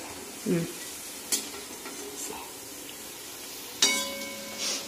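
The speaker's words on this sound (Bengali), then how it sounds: "আর তোমরা এরকম বড়া ভাজা খেতে কারা পছন্দ করো" Fritters sizzle in a frying pan with a steady crackling hiss, broken by a few louder scraping stirs and clinks of a utensil against the pan.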